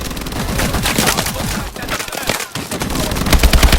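Dense, continuous machine gun fire from an armored turret in Call of Duty: Advanced Warfare pounds away loud and close, with overlapping shots forming an unbroken barrage for several seconds.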